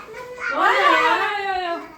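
A cat gives one drawn-out, wavering meow, close and fairly loud, rising and then falling over about a second and a half.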